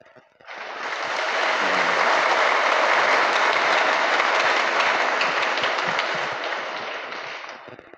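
Congregation applauding at a Mass in honor of Saint Anthony of Padua: a loud, dense wave of clapping that swells in quickly, holds steady for several seconds, then fades out.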